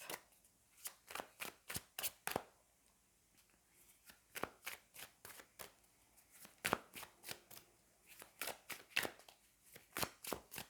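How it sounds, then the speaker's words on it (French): Tarot cards being shuffled and drawn make a quick run of crisp, close papery snaps and flicks, coming in uneven clusters over a near-silent background with no speech. "On commence par tirer 3 cartes."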